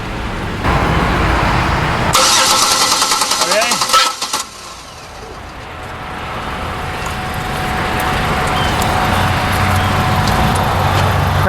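A GM 3.8 V6 engine cranks over with a loud, rhythmic mechanical chatter for a couple of seconds, then cuts out into a rumbling, noisy background, close up with voices around it.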